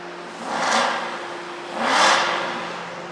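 An Aston Martin V8 Vantage engine revs twice, each rev swelling up and easing back down at moderate loudness, with no one talking over it.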